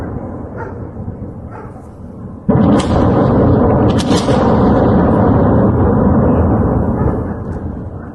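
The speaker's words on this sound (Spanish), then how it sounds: "Varias explosiones sobre la ciudad de Zaporozhye serían bombas FAB sobre edificios" A sudden heavy blast of FAB aerial bombs hitting buildings in Zaporizhzhia breaks through a low rumble, then a long thunderous roar rolls on with sharp cracks inside it before slowly fading.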